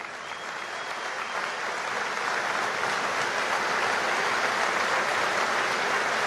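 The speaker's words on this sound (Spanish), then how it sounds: "lo vamos a recibir con un muy fuerte aplauso" Loud, dense crowd applause at a trade union gathering welcomes the union's general secretary, building slightly and holding strong and continuous with no speech.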